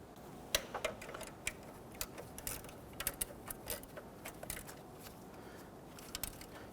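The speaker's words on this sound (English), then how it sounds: "Let's go ahead and tighten down the back bolt here and then the rear horizontal bolt here." Faint, irregular ratchet clicks come from a wrench tightening the belt tensioner bolts on a 1992–1996 Toyota Camry 2.2L four-cylinder engine, the sharp ticks scattered over quiet background hiss.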